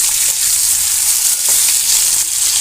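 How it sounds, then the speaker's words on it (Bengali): Onion frying lightly in a pan for kadai paneer gives a steady, bright, close sizzle that stays even and unbroken from start to finish, with no voices. "পেঁয়াজটাকে ভীষণই হালকাই ভাজবো আমি"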